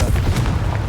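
A Confringo fire spell bursts in a Harry Potter game: a short, deep, boomy blast with low rumble that fills the whole moment, close and loud, with no voices over it.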